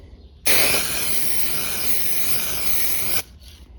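A single sustained spray-paint burst lasting under three seconds, loud and close, hissing evenly before cutting off abruptly, testing the spray pattern for a 2004 Jeep Grand Cherokee grille repair.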